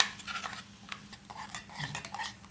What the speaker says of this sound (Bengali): চকলেটগুলো গলে গেছে, এটা নেড়ে দিলাম